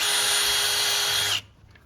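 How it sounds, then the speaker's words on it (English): A power drill pre-drills a composite privacy screen panel with a loud, steady high whine that cuts off abruptly, leaving near silence. "I will pre-drill it just to help us land it a little bit better"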